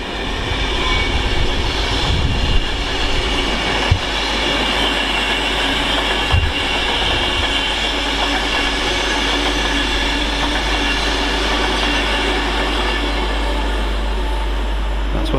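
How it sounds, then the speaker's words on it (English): A Pendolino electric train, unit 390-117, passes through Stafford station on the West Coast Main Line with a loud, sustained rush, low rumble and a few wheel clanks and squeals. "Another Pendolino now,"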